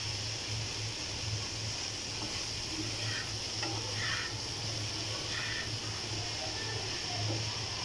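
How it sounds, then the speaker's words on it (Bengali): Okra is stirred in a frying pan, a soft continuous sizzle with light scraping and occasional clinks of the spatula, quiet and close, with no voices. "ভেন্ডিটা ভালো করে নাড়া দিয়ে 5 মিনিট ঢেকে রাখবো।"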